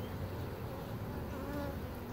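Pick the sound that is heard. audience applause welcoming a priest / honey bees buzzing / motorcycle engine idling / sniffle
honey bees buzzing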